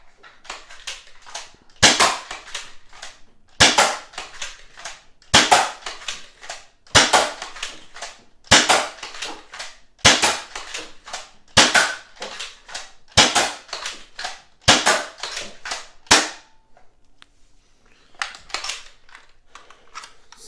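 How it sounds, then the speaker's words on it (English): Adventure Force Aeon Pro dart blaster firing Pro darts from its magazine, a steady series of about ten sharp, close mechanical snaps spaced roughly every one and a half seconds, followed by quieter handling clicks. "the Aeon Pro mag shooting normal Adventure Force Pro darts"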